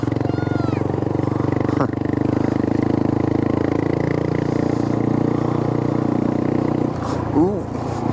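A motorcycle riding along a road in Ukraine, its engine a steady close drone with wind rush throughout and a voice speaking briefly near the end.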